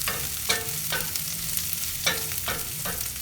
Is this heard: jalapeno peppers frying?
yes